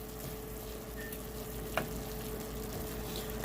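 Spiced taco beef frying in a covered pan, a soft continuous sizzle with a low steady hum and a single faint clink partway through, fairly quiet and with no talking.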